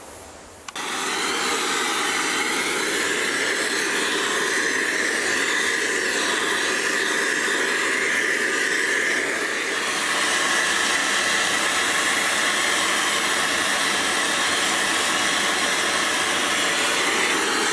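A torch roars with a loud, steady hiss, heating a crucible while gold is refined. It starts abruptly and continues unbroken, alone and close.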